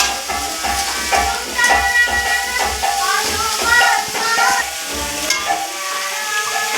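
Ridge gourd cooks in a pan with a soft sizzle and hiss, broken by tapping and scraping of a spatula, with other kitchen sounds layered over it.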